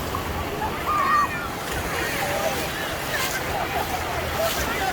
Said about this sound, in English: All the water's getting sucked back.